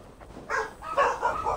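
A few dogs barking in a steep outdoor game landscape, a quiet cluster of short barks and yips at moderate distance, mostly alone without talk.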